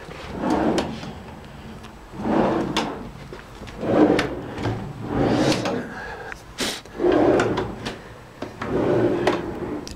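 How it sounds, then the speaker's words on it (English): A wooden chest of drawers in a hotel room, its drawers slid open and shut repeatedly in a steady rhythm of about six close, clear scraping strokes with a few light knocks. "Now over here you have a chest of drawers."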